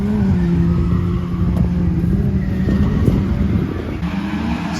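Loud, sustained engine roar from a New Edge Ford Mustang drift car, revving with a rising and falling pitch, close and dominating throughout with no talking.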